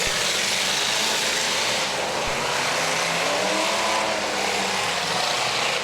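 Race cars roar around a dirt track during a Big Car feature race, a loud, continuous wall of engine noise with steady revving and no break, with no voices.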